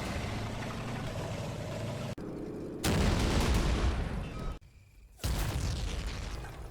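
Heavy blasts and rumbling battlefield noise from enemy mortar rounds striking an infantry line in a World War II Italy combat game, loud and sustained with abrupt cuts and a fresh burst of explosive roar, no talking.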